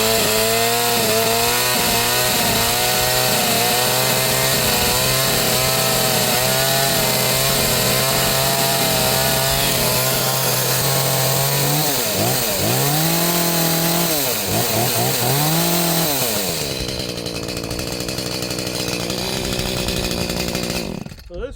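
An Echo chainsaw runs steadily at high idle, its engine drone loud and close, then the pitch swoops up and down in a few quick revs before settling into a rougher, noisier run near the end.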